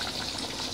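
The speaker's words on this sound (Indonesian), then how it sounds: "masukkan santan kentalnya ya teman-teman" A brief gush of thick coconut milk pouring into a pot of cooked spices over a soft sizzling, bubbling background.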